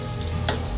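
Ginger sizzles steadily in hot coconut oil, a close and dense frying crackle with one brief louder stir in the middle, and no voices.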